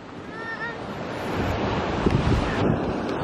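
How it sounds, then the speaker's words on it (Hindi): Sea waves wash onto a shore in Spain with a steady, loud roar, and wind buffets the microphone throughout with no one speaking. "यहाँ पर पानी की लहरें हैं"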